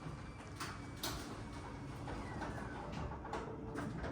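A garage door fitted with new nylon rollers opening, a quiet steady rolling rumble with a few soft knocks as the rollers run through the tracks.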